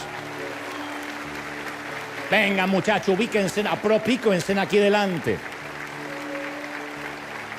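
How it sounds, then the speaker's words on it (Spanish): An audience keeps up a steady background applause for the boys who welcomed everyone, a soft continuous clapping wash that runs throughout while someone speaks loudly over it in the middle. "Ese aplauso para ustedes, muchachos"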